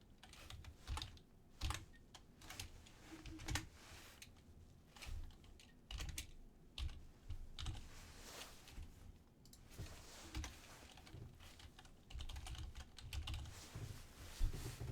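Someone types Python plotting code on a computer keyboard, producing quick, close clicking keystrokes in uneven bursts with brief pauses, with no talking.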